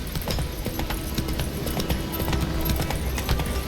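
Roach the horse trotting in the Witcher 3 video game, a quick, regular clip-clop of hooves on hard ground over a low background rumble, moderately close.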